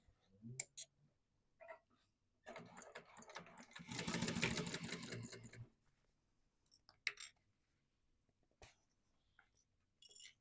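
A sewing machine stitches quilting-class fabric for a Pin it Up Patterns Aviatrix project, running close along the exterior edge: one quiet, steady burst of about three seconds mid-clip, framed by faint clicks and handling noises.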